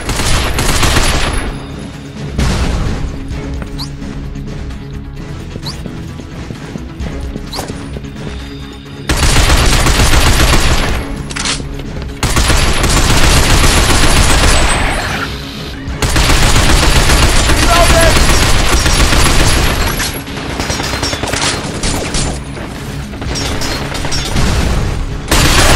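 Sustained machine-gun fire and heavy booms from a grenade fight in the video game Binary Domain. Loud, dense bursts come in long waves, with brief voices mixed in.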